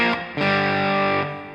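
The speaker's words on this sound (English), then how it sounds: "Then you'll hear a transition where the solo sounds like this." A distorted electric guitar plays a solo transition. Two quick stabs lead into a sustained, saturated note that rings and then fades. It is heard alone and close.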